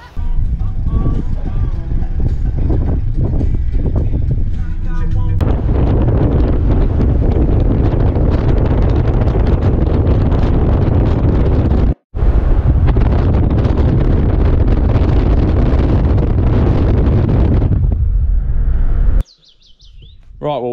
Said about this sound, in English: Wind's a bit much today